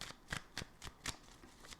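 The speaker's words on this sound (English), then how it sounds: "when you're shuffling, if you're shuffling this way, you see how I'm bending the cards?" Tarot cards are shuffled by hand at close range, giving a quiet series of about six crisp riffling bursts in a steady rhythm, with no voices.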